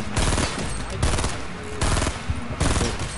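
Rapid video game gunfire in bursts, loud and dense over about three seconds, with short pauses between volleys and faint talk mixed in.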